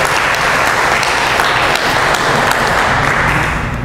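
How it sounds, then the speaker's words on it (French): An audience applauds the speaker's father at an abbey event, dense steady clapping filling the whole stretch at close, loud level with no talk over it. "On peut l'applaudir"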